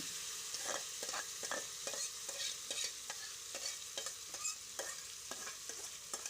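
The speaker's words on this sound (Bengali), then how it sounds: "এবার আমি ম্যারিনেট করা মাংসটা এর মধ্যে ঢেলে দিচ্ছি।" Marinated mutton sizzles in hot oil in a pan while a spoon stirs it, giving a steady hiss with regular scraping, clinking strokes, close and moderately quiet with no talking.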